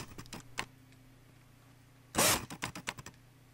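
Autofocus motor of an older Canon 50mm f/1.8 lens: faint clicking, then a short buzzy whir followed by a quick run of ticking clicks, quiet and close.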